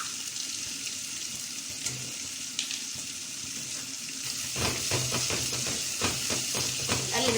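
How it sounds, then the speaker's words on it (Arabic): Garlic with ground coriander, cumin and chili sizzles steadily in a pan for lentil soup, with a soft continuous hiss; partway through, a utensil starts stirring, adding scraping and clattering over the sizzle. "نقلب التوابل مع الثومة تديها ريحة وطعم جميل"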